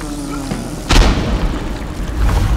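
A single grenade explosion from the video game Dishonored goes off as a loud, sharp boom with a rumbling tail, amid other low game sounds.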